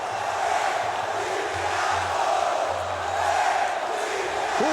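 Vasco da Gama supporters roar in a packed stadium crowd at the Engenhão after a 3–2 derby win over Flamengo, a steady, dense wall of cheering and chanting with no break.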